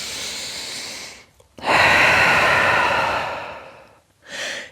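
Deep yoga breaths held in downward dog during a gentle vinyasa session: a faint exhale fading out, then one long, loud, airy breath swelling and tapering, followed by the start of another close breath.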